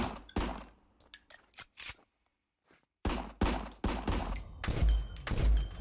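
Gunfire in the video game RICO: a string of loud, close, punchy shots in quick irregular bursts, a brief near-silent pause in the middle, then more rapid heavy firing to the end.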